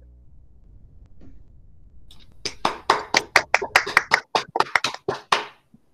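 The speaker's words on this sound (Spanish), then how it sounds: "Le damos un aplauso, por favor" A small class audience claps after a presentation, a quiet lull first, then a few seconds of loose, distinct handclaps from a modest group that tail off into a couple of stray claps.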